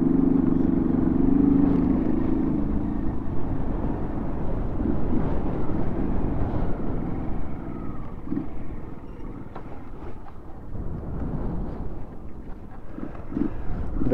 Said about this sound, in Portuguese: Vento soprando forte aqui